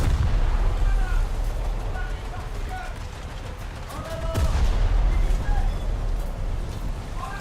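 Warship guns firing in a naval video game set on a French coast, heavy booming salvos and rumbling blasts, loudest at the start and again midway, under a speaking voice.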